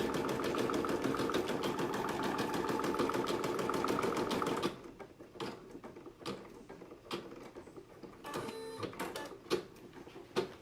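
An embroidery machine stitches continuously with a steady, dense mechanical whir, then drops to quieter intermittent clicks and thumps of the needle mechanism, close and without voices.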